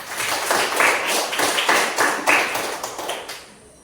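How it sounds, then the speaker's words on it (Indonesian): Students in a classroom clap for a group in a short round of rhythmic, close applause that tapers off after a few seconds. "Tepuk tangan."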